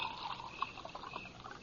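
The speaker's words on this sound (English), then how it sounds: "Some more coffee, Lex?" Hot coffee poured from a pot into a cup during a western radio drama scene, a soft, brief liquid trickle that stays steady and close for under two seconds.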